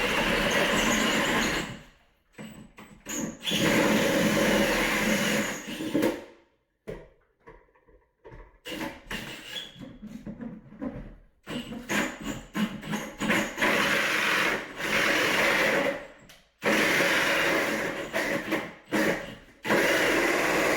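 A drill cuts a hole in a ceiling for a recessed can light in a home, loud bursts of whirring and grinding broken by short pauses and quieter stretches.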